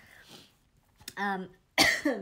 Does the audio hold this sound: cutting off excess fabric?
no